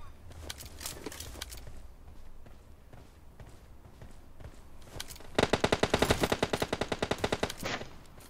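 Automatic gunfire in PUBG Mobile, a long fast burst of loud evenly spaced shots after scattered footsteps and faint game noise, with someone speaking briefly.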